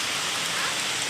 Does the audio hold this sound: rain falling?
yes